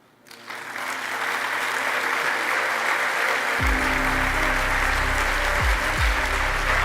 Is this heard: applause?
yes